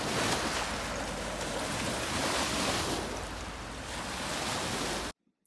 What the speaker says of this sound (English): when the big boats go by, they create these crazy sideways waves